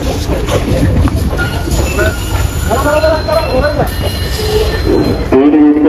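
A commuter train rides through Colombo, Sri Lanka, toward Mount Lavinia beach, heard from inside. Loud, continuous wheel rumble carries squealing metal tones that rise and fall, with an occasional voice mixed in.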